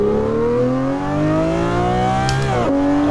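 A Lamborghini Murciélago 6.5L V12 engine in the Assetto Corsa racing game revs steadily upward from idle, a loud, close, rising engine note that briefly dips and settles back into a higher drone, with no talking.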